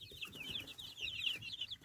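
Month-old chickens, mostly young roosters, cluck and chirp softly in a rapid chattering series, with faint background noise and no talking.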